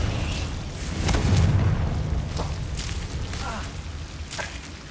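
A Confringo blast spell exploding in Hogwarts Legacy, a heavy low boom swelling around the middle and rumbling off, followed by lighter bursts, with a voice speaking in between.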